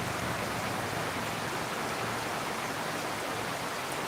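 Heavy rain falls in Guwahati, a dense, steady broadband wash of drops on surfaces, continuous and fairly close, with no voices.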